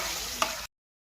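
Spice-rinsing water poured into a curry frying in hot oil with turmeric and chilli, producing a brief dense sizzle with one small splash at its peak before it cuts off abruptly into silence.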